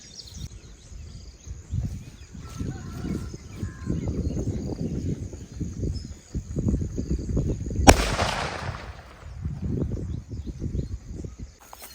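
A nattu vedi country firecracker goes off during a Tamil fireworks test: one sharp, loud blast midway, with a hissing crackle trailing after it, over steady low rumbling and background noise.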